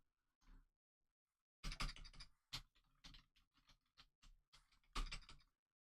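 Fingers type on a computer keyboard in short bursts, clusters of close, crisp key clicks separated by brief silences, fairly quiet overall.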